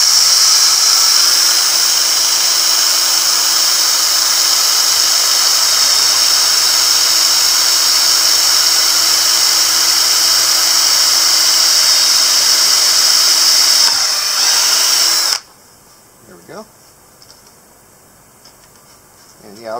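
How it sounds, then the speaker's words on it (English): A power drill bores at an angle into an awning board, whining steadily and loudly for about fifteen seconds before cutting off, followed by quieter handling noises. "what I like to do when I'm drilling at an angle, start straight and then curve once you get started."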